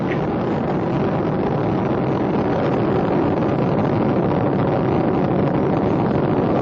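Space Shuttle Discovery's liquid-fuel main engines roar as a loud, unbroken broadband rumble during launch ascent toward the International Space Station, steady throughout with no talk.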